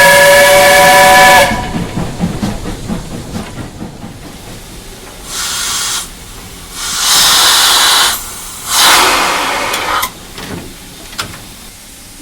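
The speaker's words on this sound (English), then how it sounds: "Do you think I might be able to pull the whistle?" A steam train whistle at Paignton sounds in several loud, long blasts separated by pauses, with hissing steam and rumbling machinery between them.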